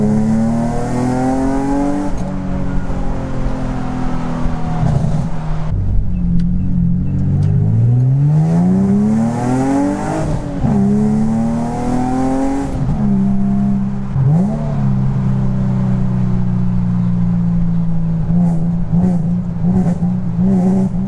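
A modified car engine that needs tuning, heard from inside while driving, revs and rises in pitch repeatedly, its loud note sagging and breaking up between pulls, with no talk.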